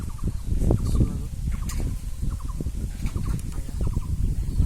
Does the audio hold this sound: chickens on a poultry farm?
yes